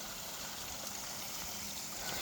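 Hundikuristiku stream in Tallinn pouring out of a sewer pipe, a continuous close rushing and splashing of water, steady and even throughout, no voices.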